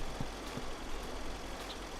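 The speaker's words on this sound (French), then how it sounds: "On n'entend que le bruit du tracteur" Steady low tractor engine drone from the farming game Agrag Simulator 2012, idling and rumbling continuously with a few faint clicks, no voices.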